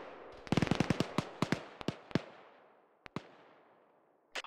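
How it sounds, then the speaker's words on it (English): Artillery rounds explode in a video game as a rapid cluster of sharp blasts, followed by scattered, spaced-out booms that trail off over a few seconds. "We have IDF landing 100 meters to our north from our position."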